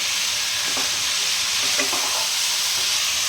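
Spices and chickpeas being sautéed in a pan give a steady, close sizzle and hiss, with soft scraping and stirring strokes throughout and no voices.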